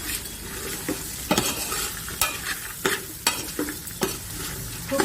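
Mixed vegetables for Bhogi bhaji sizzle in a generous amount of oil while being stirred, a steady close frying hiss broken by repeated sharp scrapes and clanks of a spoon against the pan.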